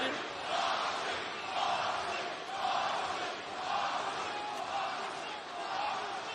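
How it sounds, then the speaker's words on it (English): A wrestling crowd at an AEW World's End 2025 live event chants in unison for a wrestler, a rhythmic, sustained roar of many voices heard from a distance, rising and falling in steady waves. "a crowd chanting in unison for John Moxley"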